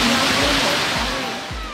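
Kasaragod waterfall at Manoori, a loud, continuous rushing roar of falling water heard close by, with a few low thuds underneath.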